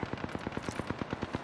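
Rapid automatic gunfire in Apex Legends, a steady burst of about a dozen evenly spaced, punchy shots rattling off close and loud with no talk over them.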